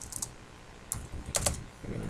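Short, sparse burst of computer-keyboard keystrokes as numbers are typed into a Python script, quiet clicks with small pauses between them.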